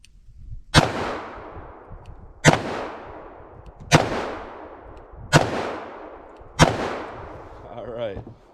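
Five loud, evenly spaced blasts from an S&W Model 69 Combat Magnum .44 revolver firing 180-grain XTP rounds, each report ringing out with a long decaying echo outdoors.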